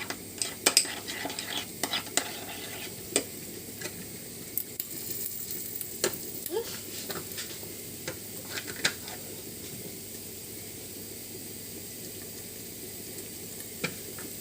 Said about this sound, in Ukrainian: Максимально все перемішуємо, додаємо соєвий соус